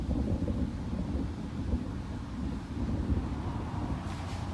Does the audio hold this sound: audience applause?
no